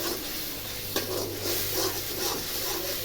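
Spiced pumpkin frying in a pan is stirred with a utensil, giving a steady soft sizzle and hiss with light scraping strokes, close and moderately quiet.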